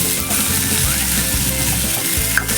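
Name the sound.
sautéing potatoes and peas in spices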